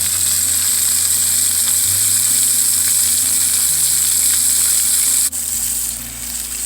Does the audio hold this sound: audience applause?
no